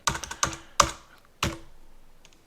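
A handful of sharp, separate key clicks, irregularly spaced, with a pause before one last louder keystroke and a few faint taps at the end.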